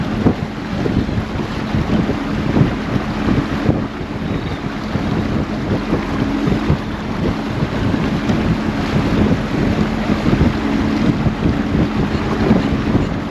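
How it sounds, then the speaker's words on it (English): Parsun F130 outboard motor driving a fishing boat through a no-wake zone, a steady low engine drone with constant wind buffeting across the microphone, continuous throughout with no talking. "I don't know if y'all can see the motor back there"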